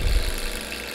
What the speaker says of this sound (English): It's actually generating about 3 volts when the motor's turning approximately